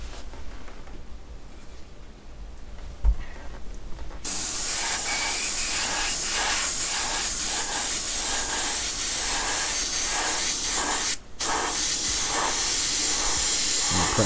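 An airbrush spraying candy paint onto a helicopter crewman mask hisses in long, steady bursts, close and loud, with a brief quiet gap before it starts and a short break partway through.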